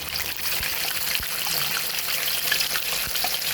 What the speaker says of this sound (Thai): นี่เขาจะทอดที่มันกรอบๆเลยนะเจ้านะ